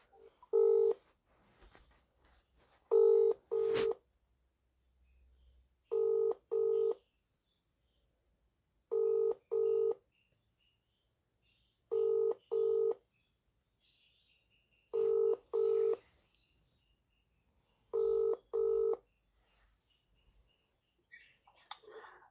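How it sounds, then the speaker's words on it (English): Telephone tones come over a phone line as paired beeps, repeating every few seconds with quiet gaps between them, about seven times, before reaching a city solicitor's voicemail. "I'm now ringing up Graeme Kenna, the city solicitor."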